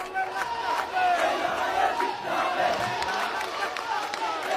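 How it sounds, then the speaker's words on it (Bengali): A packed hall at a political rally erupts with the crowd chanting slogans in unison, with scattered sharp claps mixed into the loud, rhythmic rising and falling roar of voices. "তখন হলবর্তী সকলেই স্লোগানে করতালিতে মেতে উঠে"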